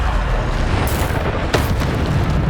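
A Bombarda explosion spell cast in Hogwarts Legacy bursts with a loud, deep boom midway through, over constant heavy game rumble and swirling effects, with no talk.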